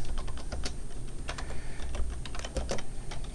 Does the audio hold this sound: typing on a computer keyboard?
yes